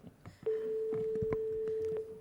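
A telephone line rings back with one long, steady electronic tone lasting under two seconds. Faint room noise and clicks sit underneath.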